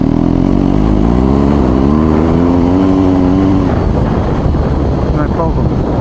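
BMW R1250 GS Adventure motorcycle engine pulling in third gear at about 2000 RPM on a slight uphill grade, a loud steady low drone with a rising pitch, under wind rush and a rider's talk.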